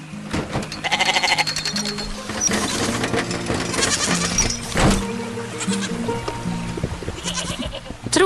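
Goats bleat repeatedly, close by, amid clattering and shuffling farm noises with a few quieter cries in between.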